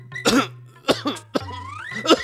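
An elderly man in a TV drama coughs several times, harsh bursts in three or four clusters with a throaty rasp between them, close and loud against a faint steady hum.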